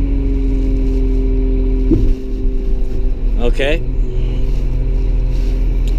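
Diesel engine of a front end loader idling steadily and up close while the bucket is tilted back and forth with a lever, with a brief hydraulic whine partway through and a short spoken remark over it.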